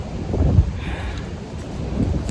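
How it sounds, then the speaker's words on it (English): Wind blowing outdoors at a nature reserve trail, low gusty rumble buffeting the microphone with one stronger thump, steady and fairly loud throughout with no talking. "Just waiting for that wind to chill out."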